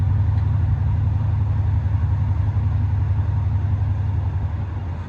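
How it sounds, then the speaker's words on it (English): A Mercedes R231 SL550 engine with RENNtech exhaust closed idles steadily with a deep, muffled low rumble, loud and continuous, easing slightly toward the end. "I'm gonna close the exhaust."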